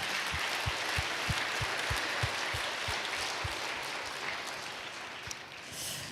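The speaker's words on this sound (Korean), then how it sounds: "감사의 마음을 박수로 전해드리겠습니다." Applause from a gathered audience at a Korean church gathering, steady and moderately distant for about six seconds, with a few soft low thumps running underneath.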